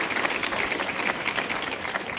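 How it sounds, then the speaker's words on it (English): Large conference audience at a housing, transportation and jobs summit applauding steadily, a dense even wash of clapping sustained throughout with no voices over it. "that applause was lovely"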